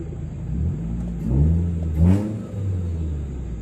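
A car engine revs up and eases off in a couple of swells while driving, a mid-pitched rumble heard from inside the car, loud and close with no speech.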